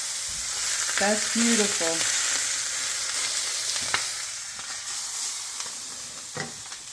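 Top sirloin steaks sizzle steadily in a 12-inch stainless steel frying pan, a loud continuous hiss close up, while a person briefly speaks over it.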